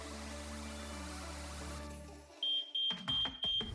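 A household smoke alarm being tested sounds a series of four loud, piercing high beeps with short gaps between them, following a brief stretch of other sound that cuts off.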